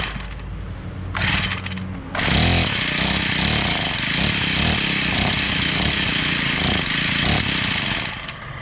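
Honda GX35 two-stroke brushcutter with a carburetor fault that lets it run but stops it from revving up fully. After a short rise the engine holds a loud, uneven, pulsing drone nearby.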